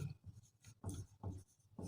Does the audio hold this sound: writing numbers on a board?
yes